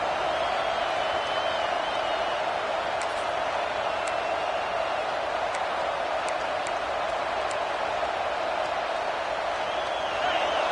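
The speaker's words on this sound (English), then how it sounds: "This crowd trying to make life miserable for this offense." Steady roar of a college football stadium crowd at a Nebraska game, loud and continuous throughout with faint scattered whistles and claps rising above the wash of noise.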